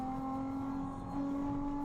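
A Nissan 350Z with a manual gearbox drones at steady revs, its engine tone holding a sustained, slightly shifting pitch, close and continuous, as heard from inside the car in traffic.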